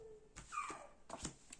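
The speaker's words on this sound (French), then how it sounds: "Mon petit chien qui chante." A small dog whines in a rising, sing-song way, two short drawn-out bursts close to the mic, with quiet gaps between them.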